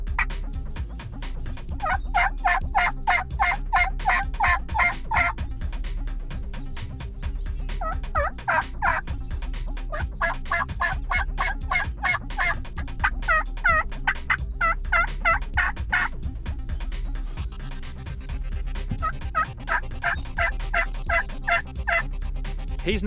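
Two wild turkeys gobbling loudly and close, with repeated rattling bursts of gobbles over a steady low rumble, continuing throughout a long stretch at first light.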